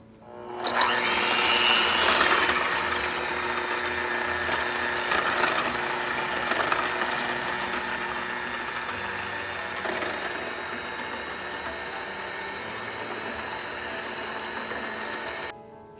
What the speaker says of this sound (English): Now we have to whisk the whipping cream.